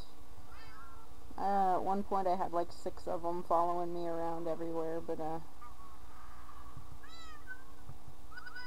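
Several Minecraft cats meow in a quick run of high, rising cries, heard close and clear over a steady background hum, with a person talking alongside.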